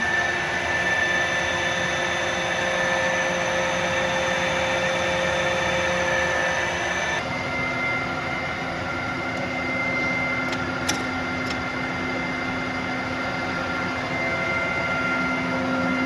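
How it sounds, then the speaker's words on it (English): A Tarnow TUJ-50M engine lathe with its spindle running at 1000 RPM gives a steady mechanical hum and whine with a constant drone, shifting tone midway, plus a couple of faint ticks. "Spindle at 1000 RPM."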